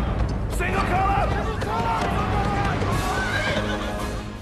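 A horse neighs loudly amid galloping hooves in a battle scene from the film Gladiator, with shouting crowd noise and a dense soundtrack throughout.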